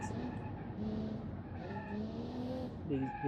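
A car in the Automation driving game braking hard on a mountain touge road: engine tone falling and wavering, tyres squealing briefly near the end, loud and steady, with no talking.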